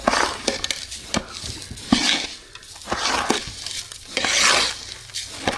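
Ragi and coconut milk kesari is stirred in a pot, a close, steady scraping and sloshing of a spoon with repeated knocks against the metal rim, continuous and fairly loud, without speech.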